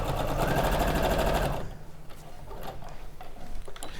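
A sewing machine stitches a cushion block with a rapid, loud mechanical chatter for about a second and a half, then stops, leaving quiet handling noises and faint clicks.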